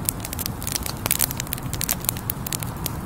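Campfire burning at night on a riverbank, steady sharp crackles and pops over a low continuous hiss, close and moderately loud, with no voices.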